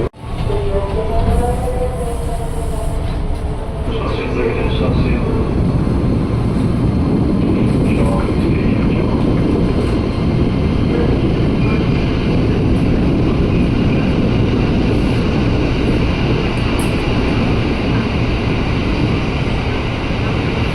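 A KRL commuter train at Tebet station, a loud continuous low rumble and roar that persists steadily for twenty seconds, with faint talk at the start.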